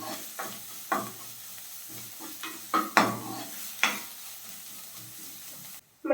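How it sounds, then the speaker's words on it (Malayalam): Onion, ginger and crushed garlic sautéing in a pan, a low sizzle broken by repeated scraping stirs of a spoon against the metal, close and fairly quiet with no talk. "അത് കൂടി ചേർത്ത് ആ പച്ചമണമൊക്കെ മാറുന്നത് വരെ നമുക്കൊന്ന് വഴറ്റിയെടുക്കാം."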